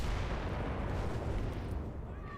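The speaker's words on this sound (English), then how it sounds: "They're dropping mortars on us." Mortar shells explode in the Enlisted video game, a dense continuous rumble of blasts filling the whole short stretch.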